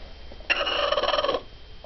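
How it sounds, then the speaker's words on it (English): A broody hen lets out a single sharp, agitated squawk that trails into a rapid, fluttering, scolding cackle lasting about a second, close to the microphone. "One of my hens just fussed at me really good."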